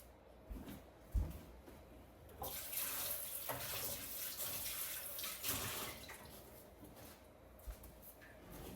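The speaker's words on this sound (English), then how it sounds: "It just needs a little rinse, and she's good to go and just work again." A food processor rinsed under a running kitchen tap, a steady rushing stream of water splashing into a sink with a few knocks and clunks from handling the parts, fairly faint and without talk.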